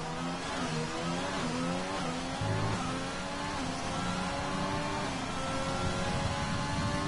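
A McLaren race car engine revs hard in a Formula 4 racing video game at a Canada circuit, its rising and falling harmonic whine climbing through gears, loud and continuous with no talk.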